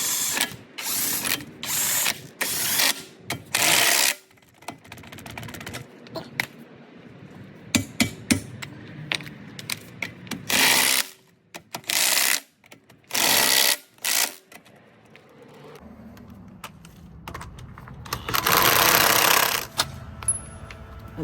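Lug nuts going back onto a 2011 Cadillac CTS-V wheel during a rear brake pad job, heard as short bursts of a powered tool's rattling whir separated by pauses, with some metallic clinks.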